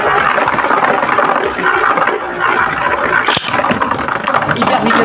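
A Lightning L-Drago Beyblade spinning top launched into a plastic stadium, giving a loud, close, continuous whirring rattle with scraping contact throughout and a sharp knock partway through.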